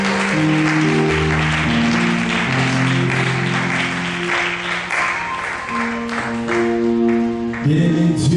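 A church congregation claps and cheers to acclaim the Lord, sustained loud applause blending with music-like tones throughout, with a brief surge near the end.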